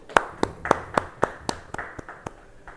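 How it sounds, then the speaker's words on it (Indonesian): A church congregation at a Bible study clapping hands in a steady rhythm, about ten sharp claps that start loud and fade slightly, with no talking. "Siapa yang percaya beri tepuk tangan bagi dia."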